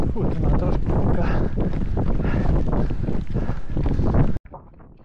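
Strong wind buffeting the microphone outdoors at a race, a loud continuous rumbling roar that suddenly drops away near the end.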